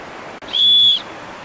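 A small plastic whistle gives a single short, clear, shrill blast lasting about half a second, loud and close against a quiet room.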